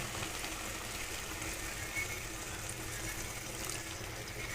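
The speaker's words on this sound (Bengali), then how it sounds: "এরপরে দিয়ে দিব জল" Water poured into a cooking pot of greens seasoned with turmeric, a steady broadband rush of liquid running continuously throughout, moderately close and even in level, with no talking.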